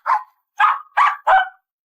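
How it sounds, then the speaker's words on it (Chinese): A pet dog barks four times in quick succession, sharp close yaps separated by short pauses, in an otherwise silent room. "小女孩带来的宠物狗似乎发现了沙发下的异常，开始狂吠不已"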